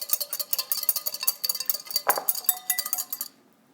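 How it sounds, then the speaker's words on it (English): A whisk beats salt and fresh ground pepper into a vinaigrette, a quick, rhythmic clinking of metal against a bowl, close and bright, with one sharper knock near the end before stopping. "Go ahead and whisk that together."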